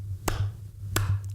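Two sharp single hand claps spaced about two-thirds of a second apart mark a steady beat, close and distinct, with a low hum underneath.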